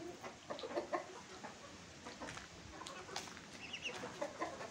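A brooding hen sitting on eggs clucks repeatedly in soft, irregular bursts, close by, with faint background rustling and no talking.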